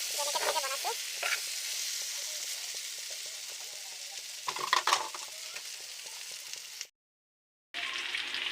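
Pork frying in a pan, a continuous hissing sizzle with occasional stirring scrapes and clatter, close and steady, with a brief cut to silence near the end and no talking.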